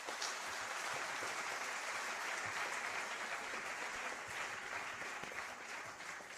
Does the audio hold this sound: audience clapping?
yes